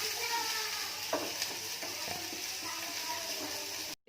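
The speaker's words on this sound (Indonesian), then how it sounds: "kita tumis terlebih dahulu sampai tercium rasa wangi" Onions sautéing in a pan for a homemade pizza topping, a steady close sizzle with scattered scrapes and clinks of a stirring utensil, no talking.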